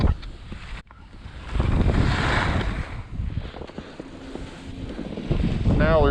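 Wind gusting on a ski slope, heard as steady rushing, buffeting noise against the microphone that swells and eases, with faint scraping sounds underneath.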